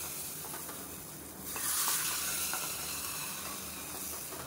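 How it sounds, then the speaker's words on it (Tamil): Hot tempering is poured over a bean, carrot and moong dal kootu, and a loud hissing sizzle swells up in the middle and then holds steady as a close, continuous fry without talking. "தாளிப்பு ரெடி ஆயிடுச்சு. அதை எடுத்து இதை கொட்டிடணும்."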